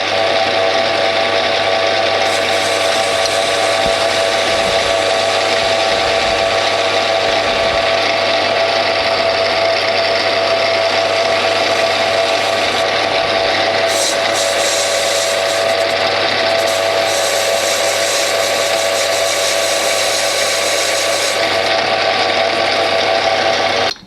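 Bernardo P 600 G metal lathe turning grade 2 titanium, a steady continuous machining drone with a constant mid tone and a high-pitched hiss that shifts partway through, loud and without talk.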